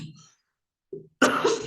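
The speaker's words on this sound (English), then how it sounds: "the videos have a lot of a repeated coughing pattern" A person coughs, with one short cough followed by a rougher, louder cough, heard close and alone.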